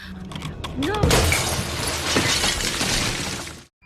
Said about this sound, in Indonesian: Dan tiba-tiba galon yang berada di sana langsung pecah secara tiba-tiba.